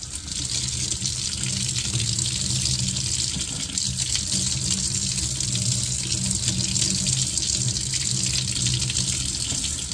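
Tap water runs steadily over a plant's roots in a nursery sink, washing soil away; a constant close gushing hiss with no one speaking.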